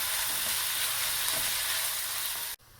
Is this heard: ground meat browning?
yes